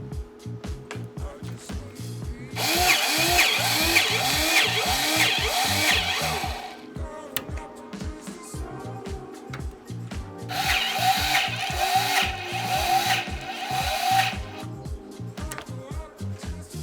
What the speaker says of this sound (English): Check it out, battery powered grease gun.